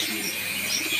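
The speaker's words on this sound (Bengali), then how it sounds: "কবুতর বাচ্চা খাওয়াচ্ছে" Pigeons in a loft, kaldom and king breeds, make soft low cooing while feeding their chicks, a faint continuous murmur with a few brief chirps over a steady background.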